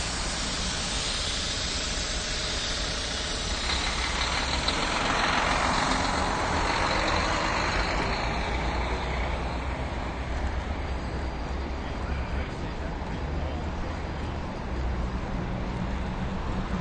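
Steady two-way traffic rolls along 57th Street in Manhattan, a continuous roar of trucks and buses passing at street level with a slight swell near the middle, no voices.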